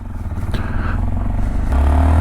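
A Honda Monkey motorcycle with stock exhaust and a 14-tooth rear sprocket accelerates, its small engine droning close and growing louder and deeper toward the end.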